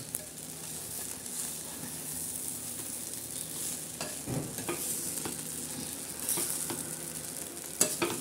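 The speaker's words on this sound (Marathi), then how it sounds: "तर आपले पोहे तयार होत आहे. चांगले हलवून घेऊया." Poha frying in a pan hisses with a continuous sizzle while a spoon stirs through it, adding intermittent scrapes and soft knocks close by, with no talking.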